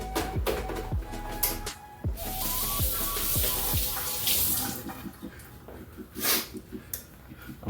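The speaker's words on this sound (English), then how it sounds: "Wash this off with some bleach water." Tap water runs into a kitchen sink while something is rinsed off with bleach water, a steady loud splashing stream with clattering knocks and thumps, no talking.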